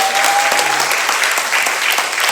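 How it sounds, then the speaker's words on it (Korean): A church congregation at a summer mountain prayer meeting bursts into loud, dense applause that holds steady for a couple of seconds. "박수."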